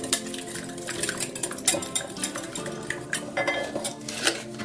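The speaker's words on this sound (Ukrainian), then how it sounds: "Збиваємо їх легенько вінчиком. Так не сильно, просто щоб е, жовток з'єднався з білком." Eggs lightly beaten with a whisk in a bowl, a quick irregular clinking and tapping of metal wires against the bowl, close and fairly loud with no talk.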